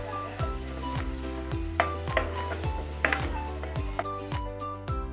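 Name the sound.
pav bhaji masala and chilli powder roasting in pan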